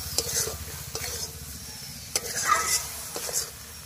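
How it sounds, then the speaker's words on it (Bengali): Paneer being stirred with spinach in a frying pan for palak paneer: close, soft sizzling with periodic spoon scrapes and taps against the pan, repeating every second or so. "এবারে পনিরটা ভালো করে নাড়িয়ে নেব"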